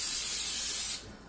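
Cooking spray hissing from an aerosol can into a pan before steak and onions are cooked, one steady close spray for about a second that then cuts off, leaving a quiet room.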